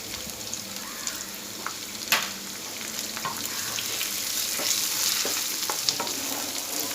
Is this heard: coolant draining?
no